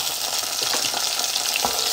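Garlic sizzles loudly in a hot pan as the base for sardines with misua and patola, a dense close hiss with a few soft stirring scrapes and no speech.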